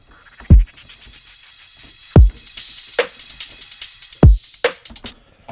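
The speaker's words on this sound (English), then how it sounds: "For the drums, they sound like this." Isolated drum pattern from a bass music track: deep punchy kicks roughly every 1.8 seconds, sharp snare hits between them, and rapid crisp hi-hat ticks filling the gaps, loud and alone.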